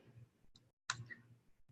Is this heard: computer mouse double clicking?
yes